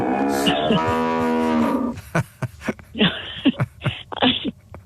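A cow moos loudly and close, one long harmonic low call, followed by a series of short bursts and thumps.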